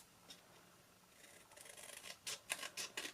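Scissors snip paper while trimming a kite, starting as faint rubbing and then becoming a run of quick, close, crisp cuts in an irregular rhythm.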